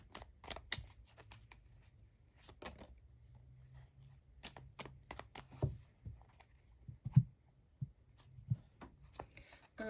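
Tarot cards from the Everyday Witch Tarot deck being shuffled and drawn: a run of quick, dry papery slaps and flicks, close and moderately soft, in irregular bursts with brief pauses.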